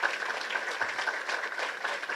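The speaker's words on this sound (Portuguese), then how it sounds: "merecem palmas mesmo" A crowd claps continuously at moderate volume, a dense, even patter of applause with no voices over it.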